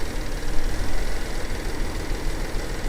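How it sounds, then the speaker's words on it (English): Rolls Royce engine idling slightly unevenly, a steady broadband rumble with a low throb that holds at constant level throughout, no voices over it. "Yeah, the idle is definitely a little rough, but it's getting better as it runs."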